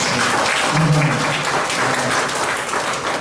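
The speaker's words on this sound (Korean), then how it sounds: "유다 선생님하고 유미천 선생님한테 다시 한 번 박수를 한번 주시겠습니다" An audience at an art exhibition ceremony applauds, a thick, continuous patter of many hands clapping loudly and evenly throughout, without talk.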